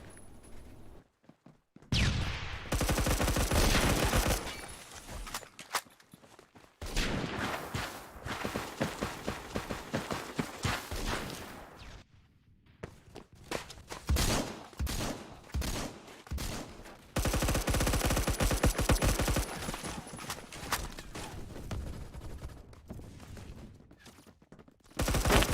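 M4A1 carbine in Phantom Forces firing in loud sustained bursts, rapid automatic volleys broken by short pauses, with footsteps between the strings of fire.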